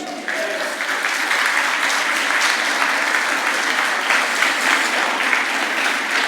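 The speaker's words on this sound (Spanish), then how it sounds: "dale un aplauso a Dios." A church congregation applauding during a sermon on Jesus, with dense, sustained clapping from a full room that starts abruptly and continues steadily and loudly throughout.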